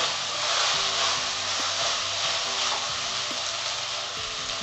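A sabudana barfi mixture cooks in ghee with a dense, continuous sizzle and hiss, plus occasional stirring scrapes, loud and close with no talk.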